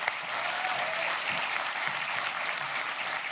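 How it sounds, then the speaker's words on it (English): Audience applause at a pitch event, a steady dense wash of clapping at moderate level that holds evenly for the whole stretch. "Please give a big round of applause to Martin with Nelly Jelly."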